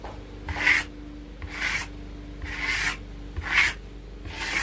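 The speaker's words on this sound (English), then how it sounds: "I'm just kind of scraping it too, because I don't want it to, you know, get too much on here" A texturing tool scraping wall texture compound, a close rhythmic rasping with about five strokes spaced roughly a second apart over a low background hum.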